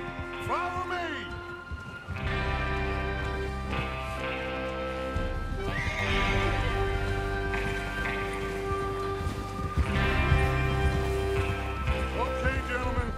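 Horses in the Red Dead Redemption 2 video game whinny and clop their hooves while a gang gets ready to ride out, set against a steady bed of rain and ambient noise, with a faint voice in the mix.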